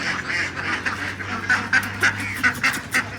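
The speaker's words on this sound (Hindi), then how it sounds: "ये देखो किस तरीके से फ्लाई कर रही है डक।" Ducks in a zoo enclosure quacking in a rapid series of loud, nasal calls that grow more frequent toward the end, over a low background hum.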